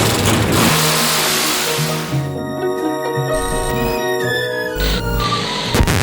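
A 700-horsepower 427 SOHC engine in a 1967 Ford Fairlane revs hard and close, its loud roar rising and falling through several throttle blips before settling back, with no voices over it.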